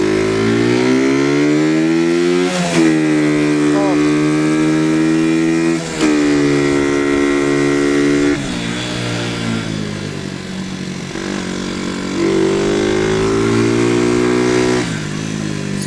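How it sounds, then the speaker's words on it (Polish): A motorcycle with a slipping clutch revs up and down repeatedly, loud and close, with rising whines that don't settle as the revs climb. "Teraz Wam pokażę, jak gdy sprzęgło się ślizga."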